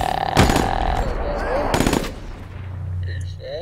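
Loud gunfire from the Black Ops 3 PC beta: two sharp automatic bursts close up, followed by game sound effects and faint in-game radio chatter.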